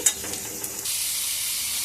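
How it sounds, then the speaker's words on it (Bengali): Cubed potatoes fry in hot oil with a mustard seed tempering, giving a steady, close sizzle with a faint stir at the start. The burst is short and has no voices. "আলুটা সর্ষে ফোড়ন দিয়ে একটু লাল করে ভেজে নেব"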